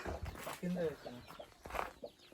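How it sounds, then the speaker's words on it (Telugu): Small farmyard chicks chirping in short, high peeps near a hen clucking, with people talking over and around them. "కోడి పిల్లల సౌండ్ వస్తుంది"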